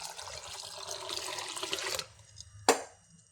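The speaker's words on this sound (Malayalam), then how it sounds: "ഇനി നമുക്ക് ഇതിലേക്ക് ആവശ്യത്തിന് കുറേ വെള്ളം ഒഴിച്ചു കൊടുക്കാം." Water is poured into squeezed rice batter for making puttu. A close, splashing pour runs for about two seconds, then stops, followed by a single sharp splash or clunk.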